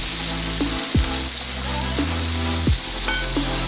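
Liver and onions fry in a pan alongside the cooking of a supper of grilled broccoli and baby carrots, giving a steady, close sizzle that runs throughout, with a few low clanks and hums from the kitchen underneath.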